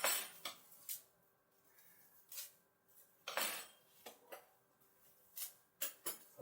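A black and gold cutlery set of spoons and forks being unpacked and handled, giving scattered sharp metallic clinks and rattles in short bursts, fairly quiet, with gaps of near silence between.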